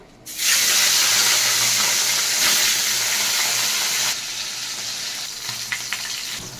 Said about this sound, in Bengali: মাছগুলোকে আমি এক এক করে ভেজে নেব।